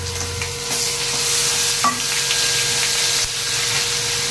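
Garlic, ginger and green chillies fry in hot oil with a steady, close sizzle and occasional stirring scrapes, with no talking.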